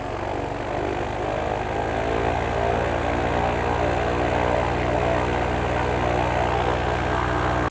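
Parajet Maverick paramotor engine being broken in, running continuously at steady high power with a loud, close, unbroken propeller drone and no voices, cutting off abruptly at the end.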